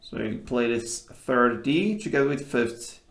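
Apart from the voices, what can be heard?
No distinct noise like a dog, phone or traffic.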